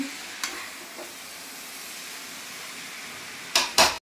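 Chowmein being stirred in a hot pan at home, a low continuous sizzle with a few light scraping taps, then two loud bursts of spatula scraping and hiss just before it cuts off, no talking.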